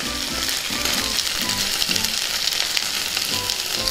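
Pieces of colocasia root frying in oil in a pan while being stirred, a loud continuous sizzle with rhythmic scraping strokes of a spoon running throughout, no one speaking.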